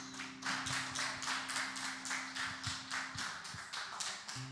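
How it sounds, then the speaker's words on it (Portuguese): Church congregation clapping in a steady rhythmic beat, roughly three claps per second, over a low sustained musical hum, moderately faint and continuous. "Aplauda a Senhor, igreja."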